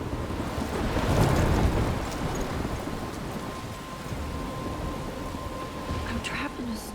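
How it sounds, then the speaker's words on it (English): Rain pours steadily through a thunderstorm in the PC game Life Is Strange, with a low rumble of thunder swelling early on, then a constant wash of rain to the end. "I'm trapped in a storm?"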